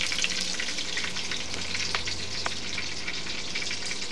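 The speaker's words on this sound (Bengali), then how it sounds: "এখন আমি বাটারের মধ্যে পেঁয়াজটা ঢেলে দেব।" Onion sizzling steadily as it hits hot oil and butter in a pan for chicken roast, a continuous close, loud crackling fry with no pauses and no voices.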